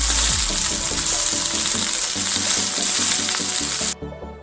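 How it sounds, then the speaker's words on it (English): Beef steak with mushrooms browning in a hot pan, a loud, steady sizzle with rhythmic stirring or scraping pulses underneath, cutting off abruptly near the end. "Since the meat is already cooked on the inside, you just need to brown the outside."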